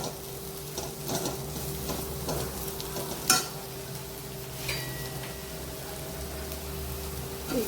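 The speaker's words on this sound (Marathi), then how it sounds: "मसाला छान परतून घ्यायचा." Masala for anda burji fries in a pan with a steady low sizzle, a low hum underneath and occasional scrapes and clinks of a spoon stirring.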